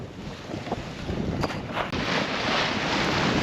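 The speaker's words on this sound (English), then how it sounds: "the wind is great" Steady wind rushes and buffets the microphone aboard a sailboat moving through a narrow channel inside the Outer Banks, with faint water wash beneath and no voices.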